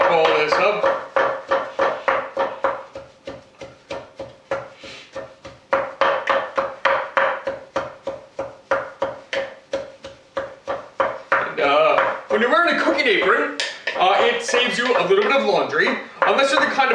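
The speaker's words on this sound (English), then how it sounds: "Let's chop all this up." A knife chops chili ingredients on a board in steady rhythmic knocks, close and loud, with a voice talking over much of it.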